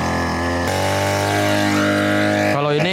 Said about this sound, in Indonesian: Kalau ini adalah mesin potong rumput yang bisa pompa air